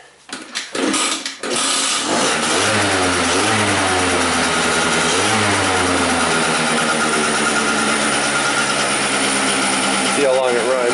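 A 50cc scooter engine with a lean-running, no-start fault, primed with starting fluid, cranks with a few rough bursts, then catches and runs steadily at a loud, buzzing idle with small throttle rises.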